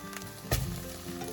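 Keto egg loaf French toast frying in a pan just after being flipped, giving a quiet sizzle with one brief louder clatter in the middle.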